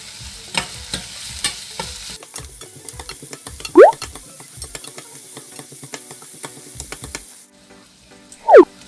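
Ingredients being sautéed with salt in a pan for a Kerala moru curry, a steady sizzle under rapid spoon-scraping and stirring clicks, with two sharp scrapes standing out above the rest.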